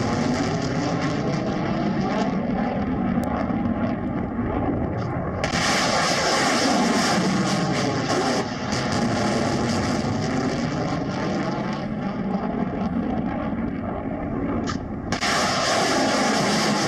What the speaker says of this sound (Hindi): यहां पर भी देखिए कैसे मिसाइल अटैक किया जा रहा है।